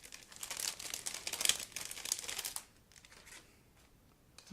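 A plastic bag holding the clear sprue of an ICM 1/35 Model T 1917 Touring kit is opened with close, busy crinkling for about two and a half seconds, then quieter scattered rustles, with no talking.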